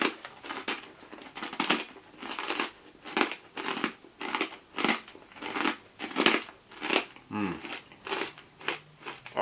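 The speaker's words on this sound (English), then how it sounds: "This is pork crackling, this one, triple cooked for a crispier crunch." Loud, close crunching of triple-cooked Mr Trotter's pork crackling being bitten and chewed, a steady run of sharp crisp bursts about once a second with no talking.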